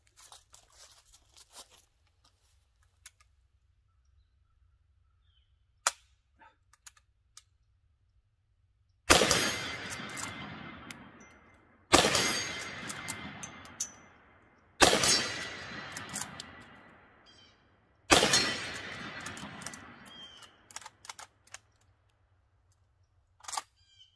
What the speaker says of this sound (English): I'm going to put the other six rounds right down there on the next steel target